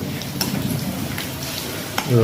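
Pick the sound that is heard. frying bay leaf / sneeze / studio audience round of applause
frying bay leaf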